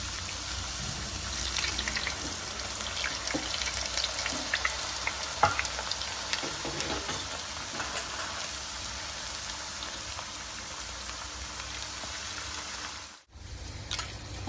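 Grated chips fry in hot oil with a dense, steady sizzle and scattered crackles and pops, continuing evenly until a brief drop near the end.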